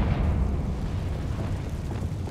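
A Confringo blasting spell going off in Hogwarts Legacy, heard as a dense, loud roar of low rumble that fills the whole moment, steady and close with no talk over it.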